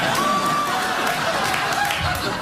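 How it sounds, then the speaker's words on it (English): A late-night talk show studio audience applauds in a steady, dense wash of clapping and crowd noise with a few chuckles, filling the room at an even level. "No, that was genuine applause right there."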